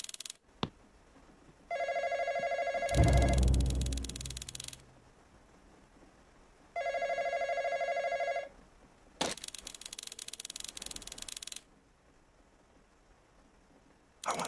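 A telephone rings in a Roblox barbershop game, two long electronic trilling rings separated by a pause, with sharp mechanical clunks and a louder burst of noise between them, all moderately loud and free of talk.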